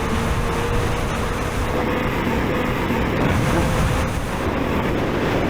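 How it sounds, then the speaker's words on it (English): Steady, roaring wind noise buffets the microphone throughout while trail riding on the East Gippsland Rail Trail in Australia, a continuous broadband rush with no clear breaks. "It's getting windy."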